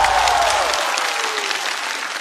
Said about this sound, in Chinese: 再次掌声送给孙熙。